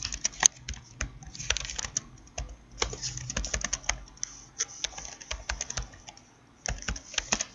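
Computer keyboard keys tapped while typing Urdu text in InPage desktop publishing software, a steady run of irregular close clicks and clacks with brief pauses, with no voices.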